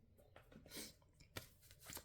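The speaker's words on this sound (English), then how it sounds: "Let's shuffle for Morris quickly" Cards being shuffled during a tarot-style reading, a few quiet riffling and tapping bursts close to the microphone with no talk.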